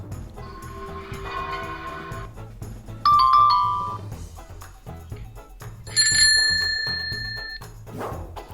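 Several bright bell rings sound in turn, a trilling ring, a ding and a lingering chime, over soft rhythmic background music.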